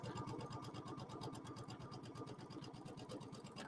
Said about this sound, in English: I'm just going to stitch close to the fold on the inside